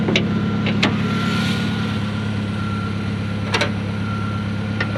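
A 1993 Ford Ranger engine runs steadily with a low, even drone and a faint whine, broken by a few short, sharp clicks or beeps, with no talking.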